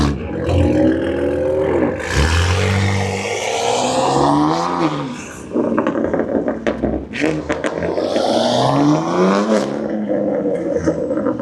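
Several cars pulling away together at a Cars & Coffee meet, engines roaring and revving loudly in overlapping waves for the whole stretch, close by, with no talk over them.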